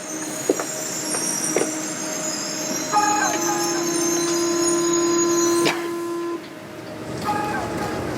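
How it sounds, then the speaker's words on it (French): A metro train hums and rumbles steadily, with a sustained tonal whine and a door-closing chime partway through, then the sound drops off. "Le métro sonne, les portes se ferment."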